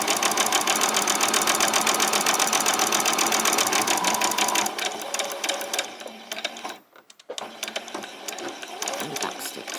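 A sewing machine runs fast and steady as it back-stitches a fabric apron, a dense rhythmic clatter that slows and stops, then gives a few shorter bursts while a voice speaks softly.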